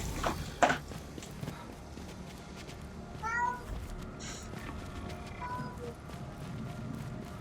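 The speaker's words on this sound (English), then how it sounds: "Kitty." A cat meows a couple of short, nasal calls mid-clip in the game Returnal, moderately close, amid clicks, footsteps and other game effects.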